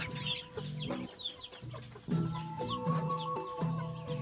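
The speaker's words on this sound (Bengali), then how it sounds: "আমার মুরগিগুলো দেখতে পারছেন মাশাল্লাহ অনেক সুন্দর" Several native chickens cluck and murmur close by, repeated short clucks overlapping with higher chirps in the background.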